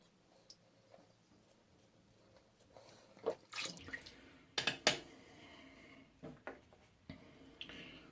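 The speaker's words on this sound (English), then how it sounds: "Gonna add just a little bit of water to that." A little water added from a tap, with faint scattered drips and splashes, a few louder bursts of trickling between quiet gaps.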